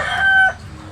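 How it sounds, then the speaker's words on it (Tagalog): A rooster kept in a small hut crows once, a loud, close, drawn-out call that trails into faint clucking and background noise. "ito pong manok na ito ay dito lang po nakakulong sa loob ng kubo."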